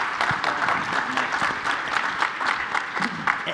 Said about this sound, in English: So please give our panelists a round of applause.